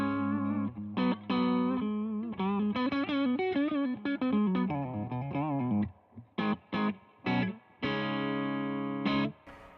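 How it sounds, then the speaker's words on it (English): Electric guitar playing a melodic run through Tone City effects pedals, distorted and chorused, notes bending and sustaining, with choppier stabs near the end. "So that's the guitar tone."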